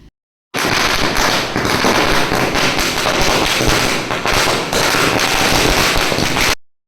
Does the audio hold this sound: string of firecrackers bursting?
yes